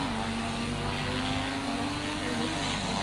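Propeller aircraft engine in a video game droning steadily at close range, a constant broadband roar with a sustained low tone that wavers slightly as it takes off, no voices over it.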